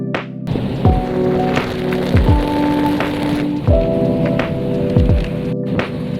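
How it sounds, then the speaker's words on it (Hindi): Rain falls during a long truck journey from Surat to Guwahati, a steady patter broken by repeated low thuds and a tonal hum, all fairly loud and close. "यहाँ बारिश होने लगी थी।"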